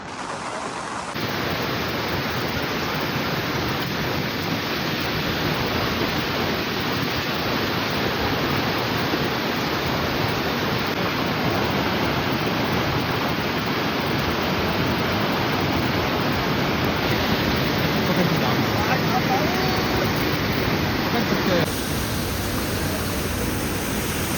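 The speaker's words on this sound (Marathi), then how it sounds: "आणि खूप जोराचा पाऊस सुरू आहे." Heavy monsoon rain pours near a waterfall at a temple site, a loud, steady broadband roar of falling water and rushing flow that continues unbroken with no voices.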